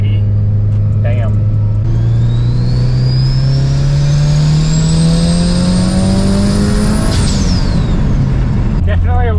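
Mitsubishi Evo 8 running 36 psi of boost, pulling hard at full throttle with a loud, steadily rising engine drone that climbs through the gears, a turbo whistle riding above it, heard from inside the car.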